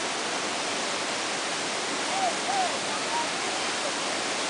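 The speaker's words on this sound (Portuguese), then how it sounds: "Gente, venha conhecer, porque vale a pena. Cachoeira do Tombador." The Tombador waterfall, Cachoeira do Tombador, roars in a steady, broad rush of falling water, loud and constant throughout, with faint voices barely audible beneath it.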